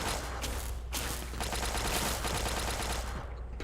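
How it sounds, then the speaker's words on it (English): Automatic gun turrets fire a dense, continuous volley in Fallout 3, rapid overlapping shots sustained at steady loudness throughout. "The turrets fighting for me is very nice."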